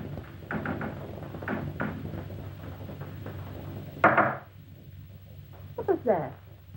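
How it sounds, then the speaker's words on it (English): Two sharp, close knocks ring out as a tobacco pipe is tapped against a hard surface in an old Hollywood film scene, each a brief crisp rap over quiet room tone. "I'm just knocking on my pipe"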